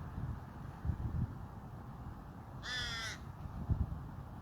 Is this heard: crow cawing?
yes